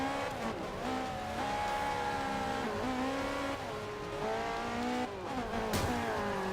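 Tires squeal in long sliding tones over a steady roaring engine as a car drifts sideways around a track in the racing game Forza 5, loud and continuous, with pitch bending as the slide changes.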